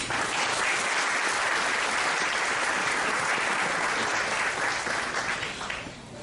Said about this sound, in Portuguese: Vamos receber o nosso convidado com uma forte salva de palmas